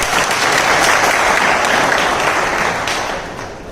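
Loud, dense applause from a crowd at a gathering of nominated councillors in Chirawa, close and sustained, fading slightly at the end.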